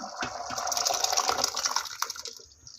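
Cooked lentils for sambar poured into a cooking pot, a continuous wet gushing and splattering pour lasting a few seconds before tapering off, close and fairly loud with no talking.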